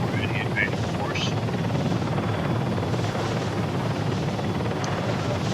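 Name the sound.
helicopter flying in a video game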